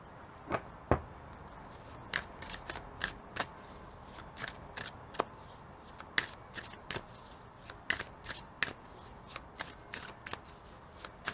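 Tarot cards are drawn and laid out one after another, making crisp close snaps and slides in a quick irregular series with short pauses between them.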